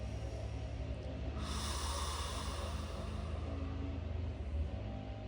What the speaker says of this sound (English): Inhale through your nose.